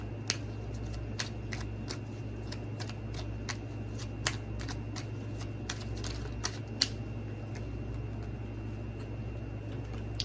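Cards clicking and snapping in a steady run of sharp, evenly spaced taps as a card is drawn from a deck, close and fairly quiet over a constant low electrical hum, with no voices.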